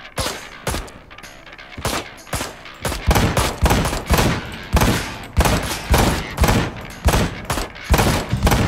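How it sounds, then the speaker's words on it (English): Repeated gunshots in the Ride to Hell: Retribution video game: loud, sharp shots fired in uneven bursts and single cracks, close and continuous across the whole stretch. "Did you see how many times I shot that guy in the head?"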